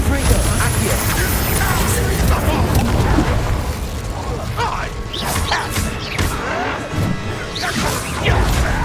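Confringo blasting spell impacts in Hogwarts Legacy on PS5, loud crashing bursts and thuds layered over busy combat noise and clanks, with voices talking and shouting over the fight.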